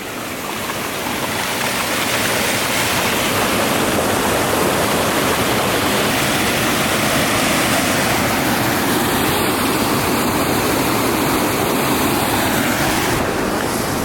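Water pours over a dam into a retaining pond on a branch of the Hammonasset River, a loud, steady, close roar of rushing water throughout.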